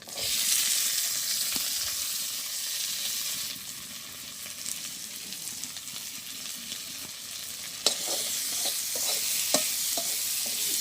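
Onion, garlic and green chillies fry in oil in a village kitchen, a loud, continuous sizzle with scraping stirs and occasional sharp crackles, and no voices.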